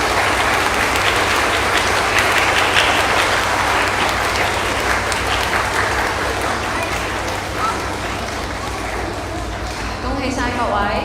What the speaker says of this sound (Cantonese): 請大家以熱烈嘅掌聲祝賀以上咁多位教職員。